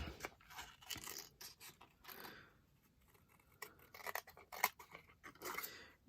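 Scissors trim tags out of clothing, giving short crisp snips and rustling cuts close by in irregular bursts with brief pauses between.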